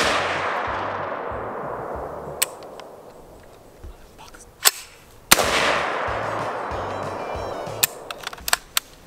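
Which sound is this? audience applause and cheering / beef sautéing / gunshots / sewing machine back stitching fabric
gunshots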